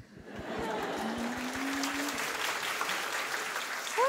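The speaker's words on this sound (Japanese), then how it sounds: "素晴らしい拍手" An audience at a comedy sketch bursts into steady, dense applause that rises quickly and holds for several seconds, with many hands clapping at close to moderate distance and no talking over it.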